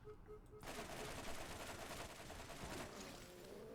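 Combat rifle gunfire in the Borderlands video game, rapid continuous bursts of shots starting abruptly after a brief quiet moment and sustained to the end.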